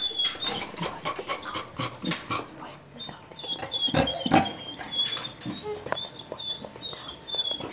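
A dog gives repeated high whines and yips in quick, uneven bursts, close and fairly loud, with faint background rustling between the calls.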